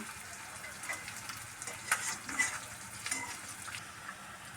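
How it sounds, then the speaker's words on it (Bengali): Chopped onions frying in a pan until browned, cooked for an egg dish with cham grass: a soft, continuous sizzle with small crackling pops, close and fairly quiet, with no voices. "পেঁয়াজটা লাল হওয়া পর্যন্ত ভাজতে থাকবো।"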